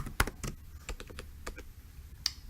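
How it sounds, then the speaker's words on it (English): Keystrokes on a computer keyboard typing a short word, a quick irregular run of clicks with one sharper final tap, close and fairly quiet with no talking. "I can just type revenue"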